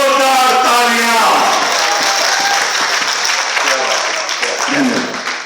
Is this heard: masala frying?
no